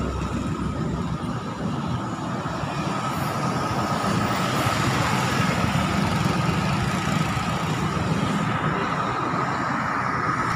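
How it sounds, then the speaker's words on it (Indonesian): A bus runs near Surabaya's Bungurasih bus terminal, its heavy engine rumbling steadily and fairly loudly throughout with no voices. "Ini ada bis Surabaya."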